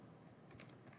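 A quick, faint run of keystrokes on a computer keyboard types a terminal command, the clicks soft and closely spaced.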